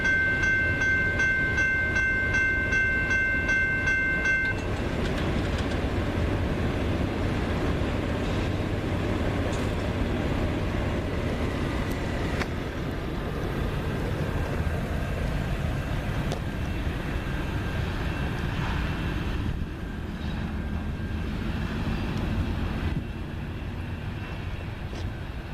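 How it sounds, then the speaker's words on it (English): A CN freight train passes at Ladysmith, Wisconsin: a horn tone at the start, then a long steady rumble and clatter of rail cars as the locomotives throttle up, heard from trackside without talk. "And I can hear them accelerating"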